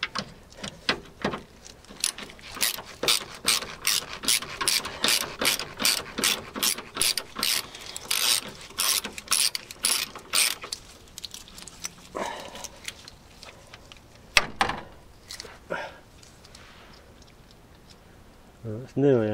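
A spanner ratchets in quick, steady bursts of clicking while the front anti-roll bar is removed from a Land Rover Discovery 2, loud and close, with pauses and a few muttered words later on.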